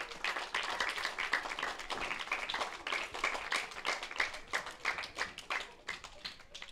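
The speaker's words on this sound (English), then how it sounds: "we have to give a special round of applause to Fangy and the Apple Cider Crew" Audience applause for Fangy and the Apple Cider Crew at a local sports event, dense steady clapping from a crowd, moderately loud and continuous throughout with no talk.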